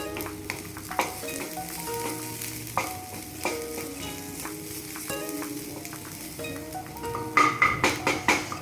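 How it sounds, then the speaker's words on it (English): Onions fry in a pan over a high flame with a constant loud sizzle, while a spatula stirs and taps against the pan in repeated clicks; soft background music runs underneath. "increase the flame and add into your onions"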